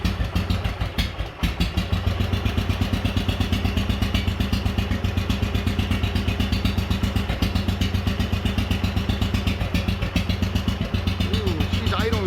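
Wheel Horse 857 garden tractor engine idling low, a steady rapid thumping putter with even pulses, close and loud throughout, after a brief knock near the start.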